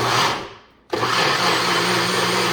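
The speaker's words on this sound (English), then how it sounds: "Got everything in the blender, here we go. It's noisy, guys, ready?" A blender whirs loudly while blending mac and cheese soup, dropping briefly to a near stop before surging back to a steady, full-power roar.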